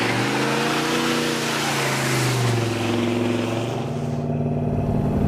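A Ford Ranchero engine drones steadily while driving, a loud, continuous low hum whose pitch drifts slightly as the car holds speed on the road.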